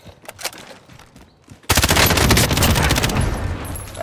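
Gunfire in a shooter video game: scattered shots at first, then a loud, sustained automatic burst of rapid machine-gun fire up close.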